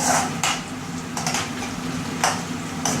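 Spoon stirring red chili powder into upma with onions cooking in a pan, steady low sizzle under repeated scraping strokes against the pan every second or so, close and moderately loud.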